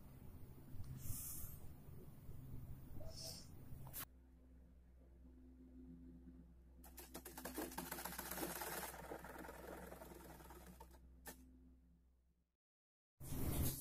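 A sewing machine stitches folded net fabric from an old sari into a lehenga, giving a quiet, steady, rapid mechanical whirring run close by, preceded by fabric handling noises and ending abruptly.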